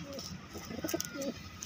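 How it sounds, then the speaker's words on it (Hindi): Hungry pigeons coo softly in short, low, throaty calls, several overlapping nearby at moderate volume. "कबूतर हो रहे हैं काफ़ी ज़्यादा भूखे"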